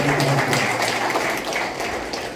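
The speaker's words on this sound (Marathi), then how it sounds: "सर्वांनी टाळ्या वाजवून त्यांचं स्वागत करावं" A crowd claps to welcome guests at a public event, a dense, even wash of applause lasting a couple of seconds with no distinct voices.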